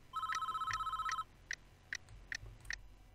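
A telephone rings in the prison management game Prison Architect: a steady electronic trill lasting about a second, followed by several short, faint beeps spaced evenly apart.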